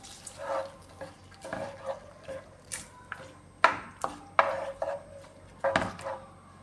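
Okra pachadi (vendakka pachadi) being mixed in a pan with the flame off: a run of scraping, clinking stirs against the pan, close and moderately loud, in uneven bursts with no talking.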